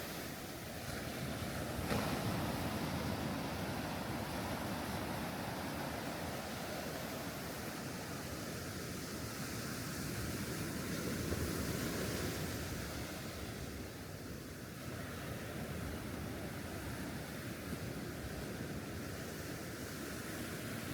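Ocean waves wash in continuously at Kovalam Beach in Trivandrum, Kerala, a soft, steady surf roar with gentle swells and a faint hiss of breaking water, distant and without voices.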